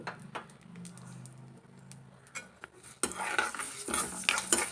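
Moong dal fried and stirred in a pan: scraping spoon strokes against the metal over a faint sizzle, growing louder and busier midway.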